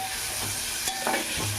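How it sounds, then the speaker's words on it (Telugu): Country chicken curry frying in a pan, a continuous close hiss and sizzle with faint stirring scrapes, no voices. "అవి కూడా బాగా వేయించుకుందాం"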